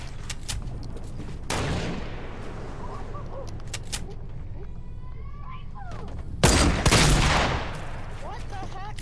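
Fortnite gunfire comes in sharp bursts and rattling volleys, loud and close, with several separate shots and heavier blasts spread across the stretch, while players talk in between.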